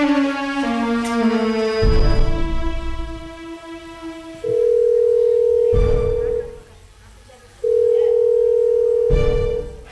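On a live stage-drama set, a telephone handset sounds a rapid run of stepped dialing tones followed by long, steady dial-tone buzzes broken by sharp thumps, with faint voices around.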